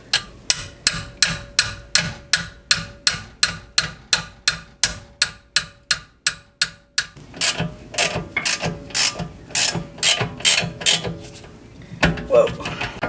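Ratchet clicking rapidly in regular bursts while loosening 12 mm rear brake caliper bolts on a Hyundai Ioniq, followed by looser metallic rattling and a few knocks, close and fairly loud.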